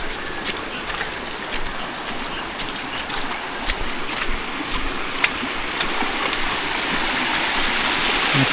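Water rushes continuously during heavy Konkan monsoon rain, a dense, even roar that swells slightly toward the end, with no one talking.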